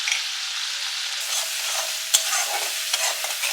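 Turmeric, chilli and cumin powders with tomato ketchup and salt are stir-fried in a pan, making a steady close sizzle under repeated spatula scrapes and a sharp clack of the utensil against the pan.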